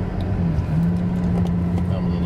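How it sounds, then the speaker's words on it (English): Steady low engine drone and road rumble inside a moving taxi, continuous and close, with a faint voice or two under it. "So we're in the taxi now."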